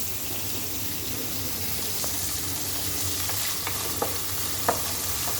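Chopped tomato sizzles in a hot pan while rava upma is being made, a steady close frying hiss with a few light scrapes and taps of a stirring spoon near the end.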